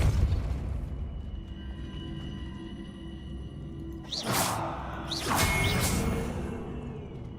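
A Depulso spell cast in Hogwarts Legacy gives two sharp whooshing blasts with a booming push, each about a second long, rising out of a quiet ambient background.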